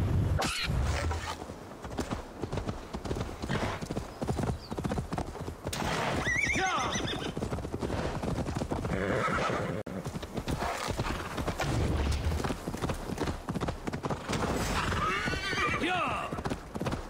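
Horses in Assassin's Creed Valhalla clop steadily at a gallop, with several loud whinnies rising over the hoofbeats and a layered game soundscape of music and voices beneath.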